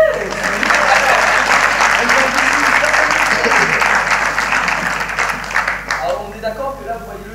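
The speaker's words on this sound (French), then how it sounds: "Applaudissez!" Audience applause after a magician's invisible-deck trick at a live magic contest show: dense, sustained clapping from a crowd for several seconds, loud and continuous, tapering off near the end.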